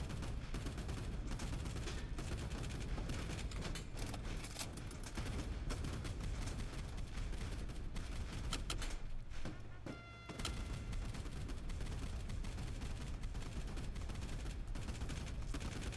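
Aircraft machine-gun strafing in a naval combat video game, a dense continuous rattle of rapid gunfire with engine roar, loud and sustained with a brief dip midway.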